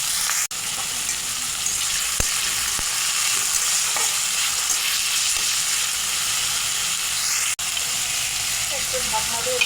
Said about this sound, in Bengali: তো প্রথমে আমি লাল খোসাগুলো ভেজে নেব